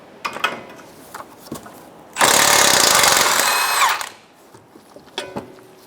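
A loud, steady mechanical whir runs for about two seconds between quieter clicks and metallic handling noises, like a power tool spinning a 19mm outer tie rod end nut off a 2012-2016 Subaru Impreza.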